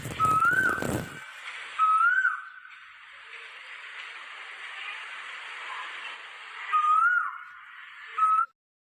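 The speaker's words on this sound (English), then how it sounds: "cuckoo" A cuckoo gives a few clear whistled calls, spaced apart, over a soft airy background after a brief loud burst at the start.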